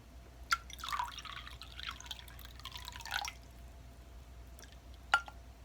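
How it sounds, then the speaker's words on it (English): Rose water poured into vinegar, soft close liquid trickles and splashes in a couple of short bursts, with a few crisp drips, one near the start and one near the end, in an otherwise quiet room. "let me just put the rose water"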